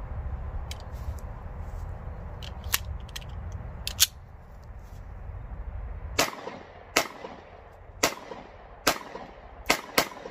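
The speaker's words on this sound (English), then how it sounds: "So we're gonna continue to shoot this gun and see how it performs." A Bersa BP9CC pistol fires outdoors, single sharp cracks at irregular intervals, at first sparse and fainter, then louder, roughly evenly spaced shots toward the end, with no talking.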